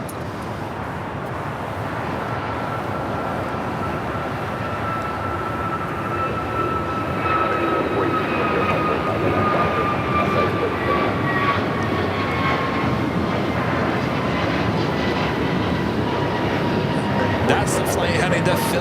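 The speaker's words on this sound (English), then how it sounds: "That's the flight heading to Philadelphia, A321neo, flight 481" An Airbus A321neo jet airliner on flight 481 to Philadelphia rumbles steadily at Los Angeles airport, a broad roar with a faint high whine that slowly falls in pitch and grows slightly louder.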